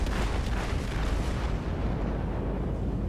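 Warship main guns fire shells during a naval battle in the game World of Warships, a dense, loud rumbling barrage of booms that fills the whole stretch with no speech.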